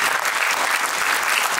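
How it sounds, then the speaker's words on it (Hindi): Audience applause at the Sikhlens Sikh arts and film award ceremony, dense continuous clapping from a full crowd, loud and steady for a brief stretch. "जोरदार तालियां इनके लिए"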